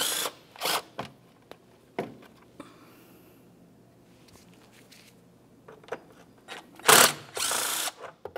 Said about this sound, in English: we'll use a 10 millimeter socket along these two bolts